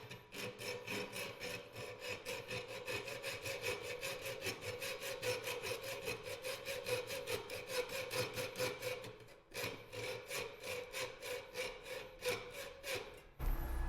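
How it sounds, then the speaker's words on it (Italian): A hand saw cuts through a screw clamped in a Parkside bench vise, steady rhythmic back-and-forth strokes close to the microphone, with one brief pause before the sawing resumes and ends with a thud. "Vediamo adesso come regge una vite come questa e proviamo a tagliarla."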